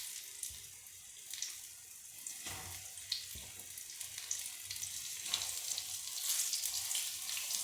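Steady crackling sizzle of cheese pancakes frying in hot oil over medium heat, with occasional louder pops and spits, close by and continuous without any talking.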